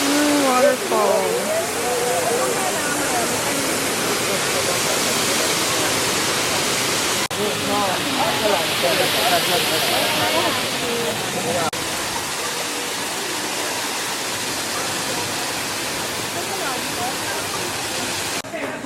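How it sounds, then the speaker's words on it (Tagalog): Continuous broadband rush of a waterfall at a Thailand-inspired tourist attraction in Taiwan, loud and steady throughout, with people talking over it near the start and middle. "Waterfall."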